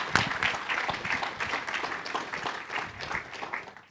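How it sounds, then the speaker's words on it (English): Audience at a DevOpsDays Columbus tech conference applauding the helpers, a dense burst of many hands clapping close and lively for a few seconds, no talk over it. "So big round of applause to these gentlemen."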